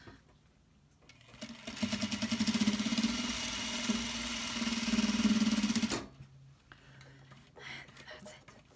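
A sewing machine runs a steady base stitch along the bottom of a clutch wallet, a close, even mechanical whir lasting several seconds before stopping, with quieter handling sounds afterward.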